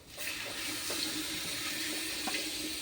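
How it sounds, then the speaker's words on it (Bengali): Water poured into a cooking pot for khichuri, a continuous close splashing rush that holds steady for a few seconds with no voices. "এর মধ্যে দিয়ে দিব আমি জল"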